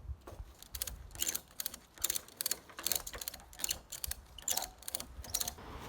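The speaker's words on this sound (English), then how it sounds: "we're using 2 ratchet straps, whoops, and then just pulling it up one by one" Two ratchet straps cranked to pull up a rustic timber entrance gate, giving a fast, steady run of close metallic ratchet clicks in rhythmic bursts.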